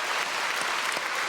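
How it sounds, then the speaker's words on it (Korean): Applause from a church congregation for a soloist who sang with soul at a Sunday worship service, a dense, steady wash of many hands clapping together close by for the whole moment. "박수하겠습니다"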